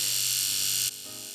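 A KISS Beauty trimmer buzzes at close range as it trims a patch of eyebrow hair, a bright steady electric whine that drops abruptly to a quieter, lower hum partway through.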